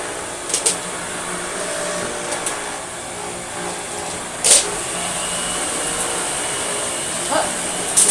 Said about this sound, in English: vacuuming with it, just for fun really, because it sounds really nice